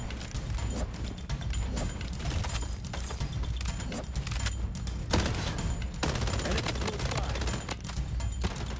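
Rapid gunfire from the shooter game Blood Strike, continuous bursts and repeated shots over a dense background of in-game action, steady and fairly loud throughout.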